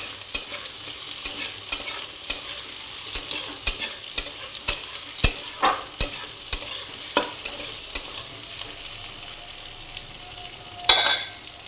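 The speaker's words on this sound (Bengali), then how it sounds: "ওই পেঁয়াজ ভাজার সাথে এই আলুগুলো আমি ভেজে নেব।" Potatoes fry in a pan with browned onions for a fish curry, a steady sizzle under regular scraping strokes of a spatula, about one per second, close and fairly loud.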